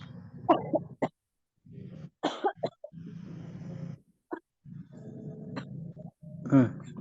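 A few short coughs break up quiet talking, scattered through the clip between spoken phrases.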